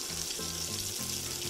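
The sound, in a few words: masala frying in oil in a kadhai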